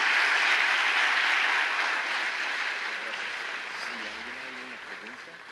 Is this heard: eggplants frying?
no